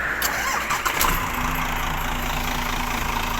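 A car engine fires up with a brief surge, then settles into a steady, rumbling idle close by.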